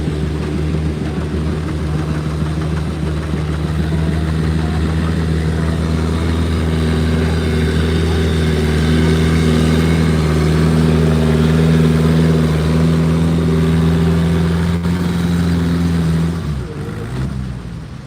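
An antique tractor engine running at a tractor pull, a steady loud droning rumble with strong low harmonics that holds nearly constant and then drops away at the end, close by.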